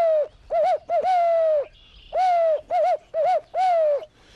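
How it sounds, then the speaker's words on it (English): A handheld owl caller sounds a barred owl's rhythmic hooting phrase, a run of loud, clear hoots with short gaps, close and alone with no talk. "barred owl is commonly recognized by its "who cooks for you all" call."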